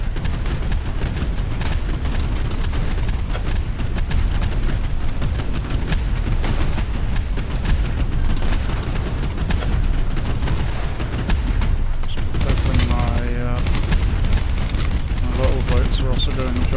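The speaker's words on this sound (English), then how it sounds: "here come the mortars" Mortar fire and explosions in the naval combat game Boat Crew, a dense, loud, continuous barrage of booms and blasts with a brief lull near the end before the bombardment resumes.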